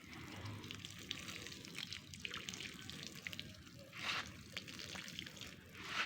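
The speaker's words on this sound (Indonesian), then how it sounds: "Kita siram ini saudara tadi." A potted plant being watered, with water trickling and dripping into the soil in a soft, uneven stream, close and fairly quiet, swelling briefly near the end.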